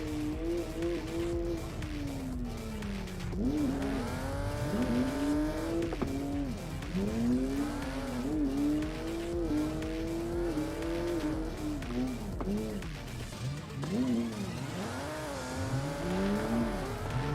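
Car drifting and sliding on snow in Assetto Corsa, engine note repeatedly rising and falling as revs swing through long slides, loud and continuous with steady engine roar underneath.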